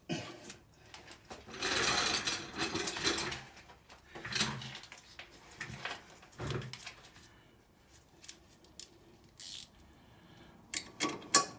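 A ratchet tightening the securing nut on a sway bar drop link of a Jeep Patriot or Compass, heard as several bursts of quick mechanical clicking separated by quiet pauses, close and moderately loud.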